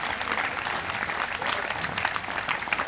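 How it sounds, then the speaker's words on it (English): Audience applause at an outdoor summer jazz concert series held at an art museum, a steady dense wash of many hands clapping throughout, fairly distant and even in level. "So Nancy Kruger deserves a big round of applause."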